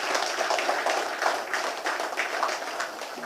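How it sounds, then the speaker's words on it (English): Town hall audience in a conference room applauding, a steady dense patter of many hands clapping at moderate distance for several seconds, with no talking over it. "I said give yourself a round of applause."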